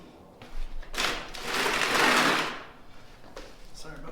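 A wrench runs nuts down on an aftermarket engine guard being fitted to a 2021 BMW R12, giving a loud, grinding ratchety burst that swells and fades over a couple of seconds, with lighter clicks before and after.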